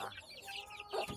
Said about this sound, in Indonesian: Tuh ayamnya.